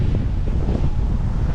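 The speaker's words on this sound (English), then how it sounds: "as you guys can see, it is really windy" Strong tropical storm winds batter the microphone in loud, rumbling low gusts with a constant roar, around a car on a road trip and with no voices.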